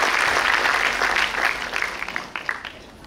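Audience applause welcoming award-winning students at a university ceremony marking the Ahilyadevi Holkar tricentenary and Women's Day, a dense steady clapping that thins and tapers toward the end.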